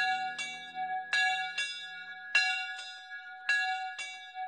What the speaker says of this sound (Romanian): Clopot bun, sună așa frumos.